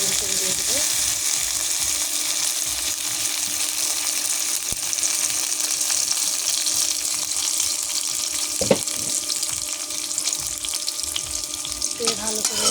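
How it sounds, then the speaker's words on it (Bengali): Onions frying in a wok in leftover potato-frying oil with added soybean oil, a steady close hiss and crackle throughout with occasional stirring clinks. "অল্প একটু তেল ছিল কড়াইয়ে, আলু ভাজার তেল, সেই তেলে আমি পেঁয়াজ দিয়ে দিয়েছি।"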